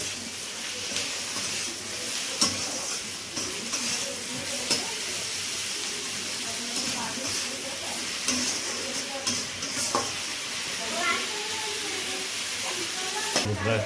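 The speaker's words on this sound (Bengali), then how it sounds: "পেঁয়াজ আর কাঁচা লঙ্কা দিয়ে এবার ভেজে নেওয়া হচ্ছে" Spices being fried with onion, green chilli, tomato and salt for a homestyle masala khichuri, with a steady close sizzle and occasional stirring scrapes throughout.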